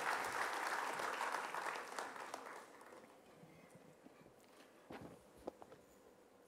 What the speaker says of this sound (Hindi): हम जोरदार तालियों के साथ उनका स्वागत करें